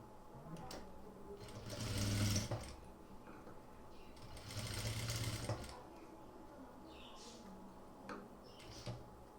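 Domestic sewing machine stitching a chudithar sleeve, two short bursts of quick mechanical whirring and ticking separated by pauses with fabric handling and small clicks, close and fairly quiet.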